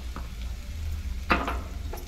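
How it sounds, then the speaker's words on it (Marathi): Chana dal and vegetables with turmeric being sautéed in a pan for a Malvani-spiced padwal bhaji, with a low steady sizzle and a few scraping stirs of a spoon. "आता याच्यामध्ये हळद घालते, हे परतून घ्यायचं सगळं।"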